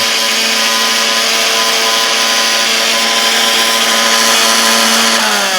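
A kitchen mixer grinder grinds a mixture into fine powder. Its loud, continuous whirring motor runs alone and unbroken, and the pitch shifts slightly near the end.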